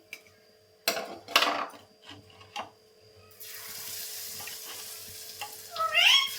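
Chilies fry in a pan at home. A few clanks and knocks come first, then a steady, moderate sizzle starts about halfway through and continues, with brief high chirps near the end.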